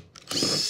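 A power drill driving a screw up into timber while plasterboarding a garden room, a short burst of whirring that starts abruptly and holds loud and close.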